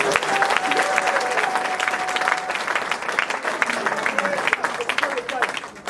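A crowd applauds at a cultural organization's reception for a culture minister, steady clapping lasting about six seconds with faint voices and a brief tone mixed in.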